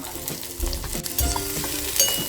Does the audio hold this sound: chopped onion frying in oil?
yes